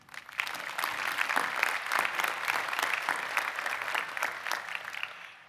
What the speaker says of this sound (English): So I'd like to give them all a round of applause before I begin.